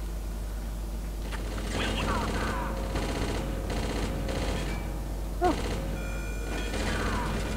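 Gunfire in the shooter game Chaser rattles out in several sustained automatic bursts separated by short pauses, layered over steady background game ambience.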